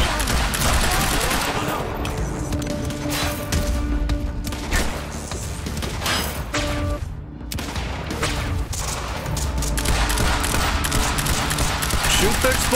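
Sustained automatic gunfire in the video game Quantum Break roars nearly continuously, loud and close, with heavy thuds and crashes mixed into the dense barrage and only a brief dip midway.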